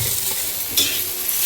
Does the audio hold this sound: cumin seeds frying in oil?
yes